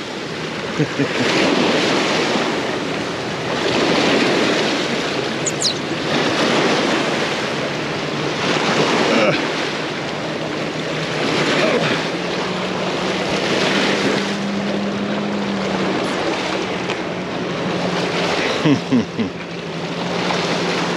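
Big waves slap and surge along the shore of the Daugava river in gusty wind, rolling in repeated loud swells with heavy wind rumble on the microphone throughout.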